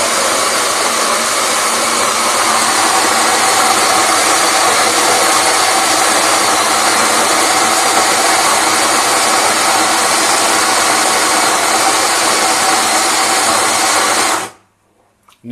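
A loud, continuous electric burr-grinder whir as freshly roasted coffee beans are ground, sustained alone for many seconds before stopping abruptly.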